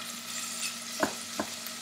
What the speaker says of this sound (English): Giving it a good stir.